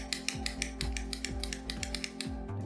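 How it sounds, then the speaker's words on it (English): Spinning gears on a Kmart retail fidget cube give a close, steady ratcheting: a fast train of small plastic clicks with a faint repeating whir under them, and no voices. "Let's go ahead and try out the spinning gears"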